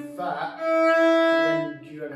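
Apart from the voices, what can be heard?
No distinct noise like a dog, phone or traffic.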